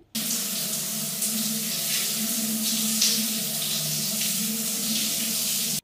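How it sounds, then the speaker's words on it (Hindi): Plain water without shampoo runs steadily from a tap while hair is washed, a loud, continuous close-up splashing gush with slight swells and no talking. "सिर्फ पानी से ही अपने बाल धोने हैं"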